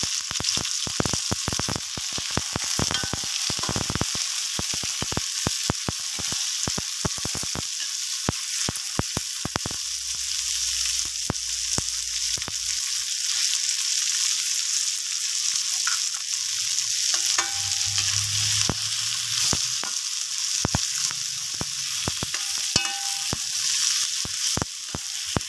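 Flaked fried fish sizzles in a pan while being stirred for vegetable soup, with a steady bright frying hiss and frequent scraping stirs throughout, close and alone without talk.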